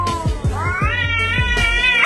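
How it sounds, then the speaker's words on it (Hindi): An angry cat meowing and yowling at another cat, a close, loud drawn-out caterwaul rising in pitch, with no talking. "यहाँ एक बिल्ली दूसरे बिल्ली को घूर रही थी और उसके ऊपर गुस्सा कर रही थी।"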